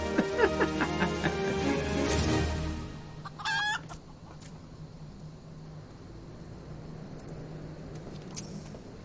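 A rooster-like demon bird in the video game Final Fantasy XIV clucks and crows, clear at first over a low game hum, then a brief sharp squawk before fading into quieter ambience.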